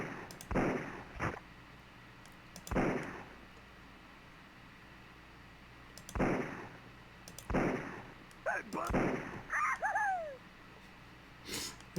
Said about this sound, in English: I love the sound effects the flying skulls make.